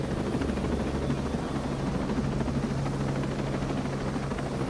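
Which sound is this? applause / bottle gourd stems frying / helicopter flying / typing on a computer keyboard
helicopter flying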